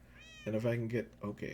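A cat meows in Minecraft, one drawn-out game meow standing clearly above someone talking, followed by a second shorter meow.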